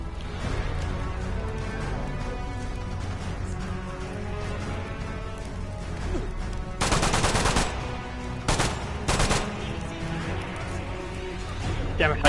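A mounted gun fires in the VR shooter Metro Awakening: loud, rapid automatic bursts, one long and a couple shorter, stand out over a dense bed of game noise, with a voice present at times.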